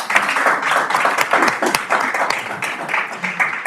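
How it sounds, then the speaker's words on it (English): Audience applause at an International Women's Day fireside chat hosted by the Gates Foundation: dense, steady clapping from a crowd that carries on without a break. "Please applaud"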